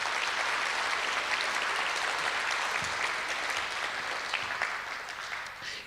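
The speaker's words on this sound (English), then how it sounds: "Please give them a round of applause." A seated audience at an annual artist-of-the-year award event claps in a full, even round of applause that tapers off toward the end.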